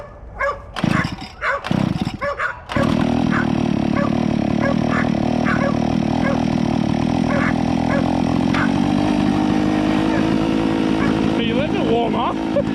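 Small two-stroke mini bike engine revving hard and steadily, a loud continuous buzzing drone with repeated throttle blips, preceded by a few seconds of people talking and handling noises.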